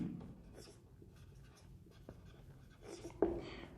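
A lecturer writes on a board, giving soft intermittent scratching strokes at a quiet level that end in a brief louder tap near the close, with no talk over them.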